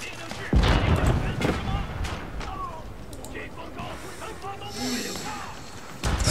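Gunfire in the real-time strategy game Age of Empires IV, a few sharp shots and bursts scattered through busy battle noise, heard under and between ongoing commentary.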